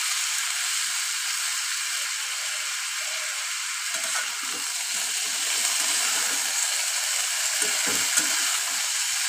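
Chopped tomato frying in a pan for a mixed potato and tomato bhaji, giving a steady close sizzle and hiss throughout, with a few soft scrapes and stirring knocks near the end and no voice.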